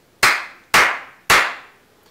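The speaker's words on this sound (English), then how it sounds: "The easiest way is to simply clap your hands, for example, 3 times" Three sharp hand claps spaced about half a second apart, each loud and crisp with a quick decay, made alone as a sync marker for lining up audio with video.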